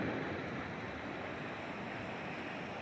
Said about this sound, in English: Beautiful, beautiful river running along a mountainside, as you can see.